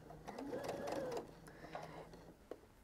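Home sewing machine back stitching a quilted table runner of fabric with bulky fusible fleece, a steady whirring motor run for about a second, then short bursts and a final click, close and fairly quiet.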